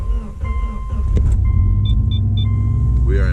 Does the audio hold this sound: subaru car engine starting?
yes